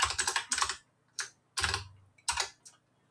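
Close, clear clatter of typing on a computer keyboard in a dark room, with quick bursts of keystrokes broken by short pauses and no talking.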